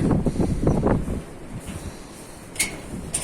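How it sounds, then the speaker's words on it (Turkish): Gusty wind buffets the microphone outdoors on a windy day at a farm where a cow has just calved, rumbling in uneven bursts that fade to a softer hiss with a couple of faint knocks. "Rüzgarlı bir havam var bugün."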